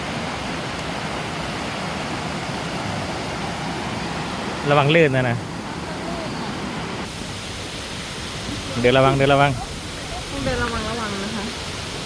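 Water rushes steadily at Sarika waterfall as a constant broadband roar that fills the whole scene, while people speak briefly over it in short bursts.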